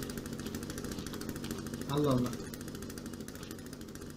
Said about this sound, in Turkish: Elinde testeresi olan birisinden kaçıyor.